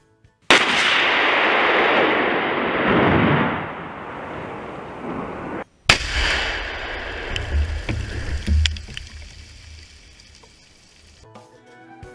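A wartime bomb detonates at a firing range: a sudden loud blast with a long rumbling roar, then a second sharp boom followed by scattered thuds and rumble fading out.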